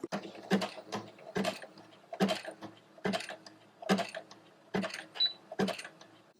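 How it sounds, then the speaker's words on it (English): A sewing machine with a button sew-on presser foot stitching a tiny button down, running in short, evenly spaced mechanical bursts of rapid ticking and whirring, close and fairly quiet, with no talking. "And I can sew that tiny button down."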